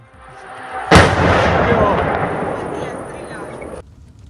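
A military strike on a target in Chernihiv sets off a sudden, sharp blast followed by a long, heavy rumbling roar that fades slowly, loud and fairly close.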